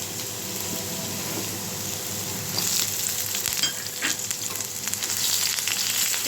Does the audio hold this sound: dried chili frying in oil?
yes